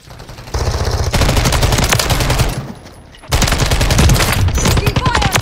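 Rapid automatic gunfire in Call of Duty MW3 multiplayer, long loud bursts of close machine-gun fire with a brief pause in the middle, dense and continuous.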